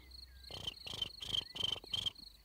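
Cricket chirping imitated by a person in an orchid meadow, five evenly spaced buzzy chirps in quick succession, close and fairly faint, with no speech.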